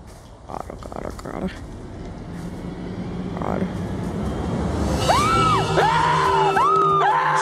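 A character in the horror video game The Quarry screams with rising, wavering shrieks in the second half, loud over a steady game soundscape, after earlier short yells and shouts.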